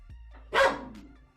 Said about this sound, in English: he barked because Copper was trying to eat his food